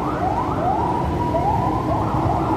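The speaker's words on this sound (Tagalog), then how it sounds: "sakto sa ano yung ambulansya, oh." An ambulance siren wails in repeated rising sweeps over loud road and engine rumble, fairly close and continuous.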